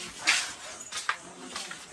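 Dogs bark outdoors in a few short, moderately distant yaps and whimpers spread across the moment, with voices murmuring faintly underneath.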